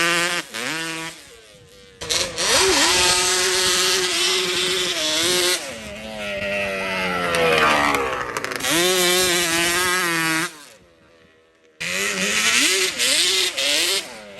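Yamaha Banshee drag ATV in a yard, its two-stroke engine revving hard and close, rising and falling in pitch over long loud bursts with a brief drop to idle and silence before revving again.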